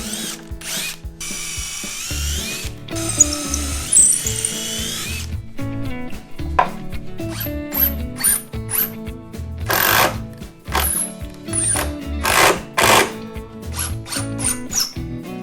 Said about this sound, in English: Attach the legs directly to the bottom board with long screws.